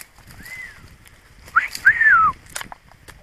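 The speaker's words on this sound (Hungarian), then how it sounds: "Szomszédban a papagájok fütyülnek." Parrots whistling next door during a dry grape harvest, with a few rising and falling whistles standing out clearly over quiet outdoor background noise.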